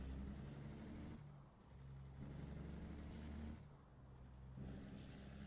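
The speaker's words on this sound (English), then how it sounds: "this truck is awesome, and I've got the engine sounds now" A heavy truck engine in American Truck Simulator rumbles low and steady, easing and rising twice, with a faint high whine riding above it.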